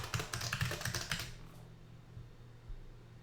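Rapid keystrokes on a computer keyboard as a password is entered during a Linux software install, a quick close burst of clicks for about a second that then stops, leaving quiet room tone.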